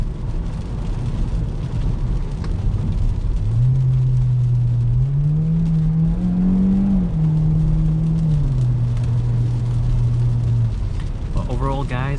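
A 2021 Hyundai Elantra with a CVT accelerates from inside the cabin, its steady engine drone rising in pitch in stepped simulated gear changes, then dropping and holding, loud and continuous for the whole stretch.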